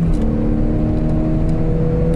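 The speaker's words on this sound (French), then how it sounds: "Donc petite accélération bien sympathique" A Citroën Xsara accelerating hard through the gears, its engine revving loudly and steadily with a continuous, close-up drone and no talking.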